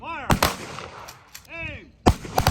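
Rifles fire a volley at an outdoor wreath-laying ceremony honoring servicemen, loud sharp cracks with echoing tails, first a pair of shots, then another round after a pause.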